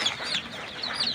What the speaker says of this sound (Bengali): একটা মুরগির বাচ্চা নিলাম হাতে